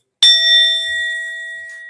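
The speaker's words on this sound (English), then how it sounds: "Hit the bell." A metal bell is struck once, giving a bright ding that rings on with a long, slowly fading tone.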